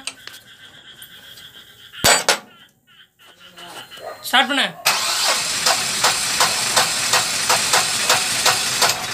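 Mahindra Jeeto engine being cranked and started, with brief clunks and a short whirring attempt before the motor catches and settles into a loud, continuous hissing idle with a rhythmic ticking pulse; a voice speaks briefly early on.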